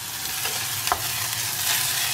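Broad beans (mochai) stir-fried in a pan give a steady close sizzle, with a few brief scraping stirs of the spoon cutting through the frying hiss.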